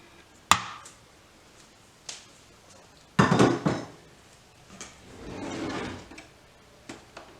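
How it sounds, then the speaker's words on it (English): A spatula scrapes chocolate cherry cake batter from a mixing bowl in a home kitchen: a few separate, fairly close scraping strokes with sharp knocks against the bowl and quiet pauses between them. No one speaks. "And I like to scrape the bowl well"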